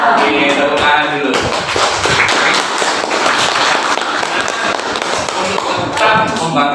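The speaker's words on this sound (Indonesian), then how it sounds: "Oke, tepuk tangan dulu." A classroom of children claps hands together in a dense, steady burst that fills the whole stretch, with a voice briefly heard at the start and near the end.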